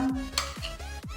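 Gol gappay puris frying in hot oil, a steady crisp sizzle with repeated stirring and scooping sweeps through the oil, close and continuous with no talking.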